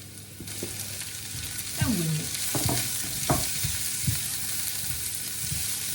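Chopped pepper fries in oil for a vegan chickpea stew, giving a steady close sizzle broken by a few spoon scrapes and knocks against the pan, with no talking.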